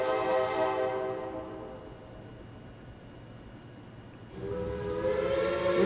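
Train horn blasting over the rumble of a moving train, a sustained chord-like horn that drops out briefly mid-passage then returns strongly, loud and close with no voices.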